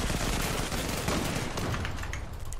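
Rapid bursts of automatic gunfire from the video game Zula crackle loudly and continuously, dense overlapping shots with no pause.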